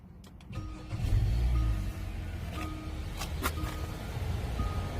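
A car engine starts with a smart key that has a dead battery: a brief cranking surge, then a settled, quiet idle with a few soft clicks and chimes.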